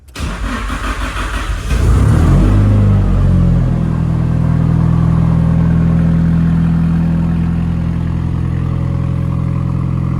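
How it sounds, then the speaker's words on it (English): A tuned Nissan Silvia's engine cold-starts: it cranks briefly, catches, and settles into a loud, steady idle heard close up, with no talking. "it's going to be the official first cold start since I got the car tuned"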